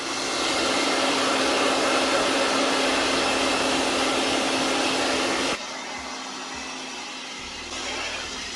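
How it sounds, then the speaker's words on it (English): A hair dryer heats the sticker glue on a Mega Drive game cartridge, blowing with a loud, steady whooshing roar that drops to a quieter setting partway through and then rises slightly near the end. "even with like really taking my time and using the hairdryer"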